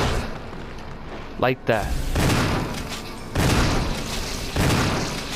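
Gunfire in the Resident Evil Remake video game booms out in a few heavy bursts spread across the moment, loud and close, with a short spoken line in between.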